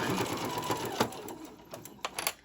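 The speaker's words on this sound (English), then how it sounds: "Now I'm going to sew these guys on." A sewing machine stitches through several layers of a ruffle-trimmed tote bag, a close, fast mechanical chatter that rises and eases with a few sharper clacks.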